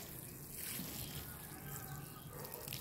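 Water poured onto a potted lemongrass plant at home, a soft continuous trickle and splash into the soil, steady and close, with no talking.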